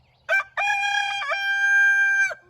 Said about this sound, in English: And rooster.